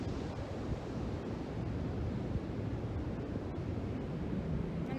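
Ocean surf outside, a constant low wash of waves mixed with wind rumble. The sound is steady and moderately loud, with no voices.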